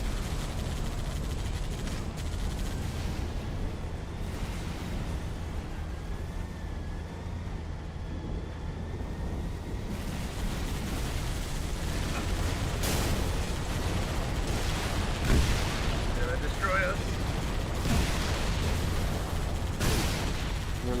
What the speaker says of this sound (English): there's a cannon shooting the green shit on the left